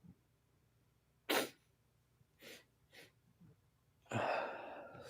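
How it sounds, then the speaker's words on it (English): A single sneeze bursts out sharply near a live late-night studio mic, preceded and followed by a few softer breaths and a brief rustle, loud and close against a quiet room. "Sorry, I had to sneeze."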